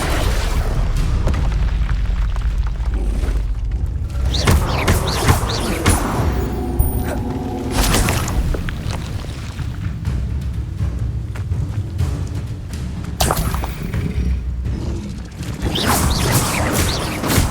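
Repeated Confringo fire-spell blasts in the game Hogwarts Legacy, loud booming bursts following one another through a dense, continuous battle din with mechanical clatter and crashes.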